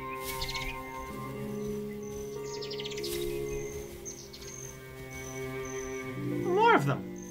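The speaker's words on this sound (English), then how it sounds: "Birds are back." Birds chirp in a video game, light tweets scattered over a bed of ambient tones and music, with a rising whistled call near the end.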